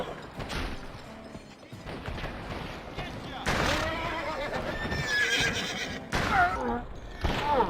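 A horse in the western video game GUN neighs and whinnies loudly while hooves clip-clop, mixed with crashing game effects and bursts of shouting.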